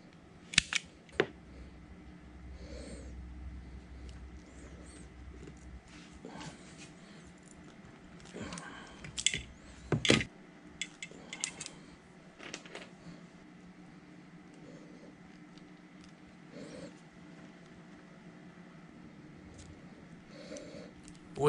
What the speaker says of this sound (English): strip off the ends here and then crimp on some ring connectors